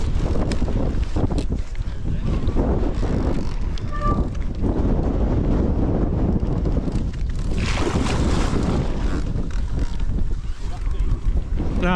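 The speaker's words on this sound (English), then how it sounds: "It's a bit windy." Wind gusting across an exposed Peak District hillside near Burbage South during a mountain bike ride, a loud steady roar of buffeting on the microphone throughout with brief voices underneath.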